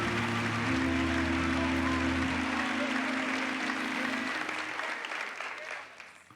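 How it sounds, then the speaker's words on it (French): Crowd applause and cheering for a speaker at a church teaching session, a broad sustained wash of clapping with low sustained tones underneath, easing off toward the end. "donnez-lui une grande acclamation"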